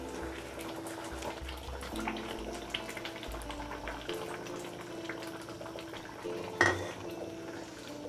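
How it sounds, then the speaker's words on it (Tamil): Tamarind water poured into a spinach curry in a home kitchen, a low liquid splash and trickle under steady cooking noise, with a brief louder splash near the end. "அந்த புளி கரைசல் தண்ணியை இப்போ சேர்த்துடலாம்."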